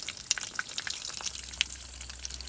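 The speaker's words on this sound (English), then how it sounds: "let me just turn on a little bit of water here." Water trickles and drips over a primed car body panel, light splashing and patters close by with no talk.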